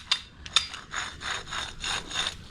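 A dry, worn front wheel bearing from a 120 series Toyota Prado, with play in it, is turned by hand. It gives a close, gritty rasping grind in repeated strokes with a couple of sharp clicks, and nobody speaks.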